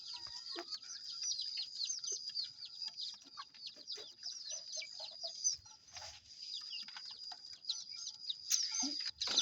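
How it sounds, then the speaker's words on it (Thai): Captive jungle fowl kept as selected breeding stock give faint, scattered clucks and short calls over a constant high insect drone, with no talking. "นี่แหละไก่ป่านะตัวนี้แหละ"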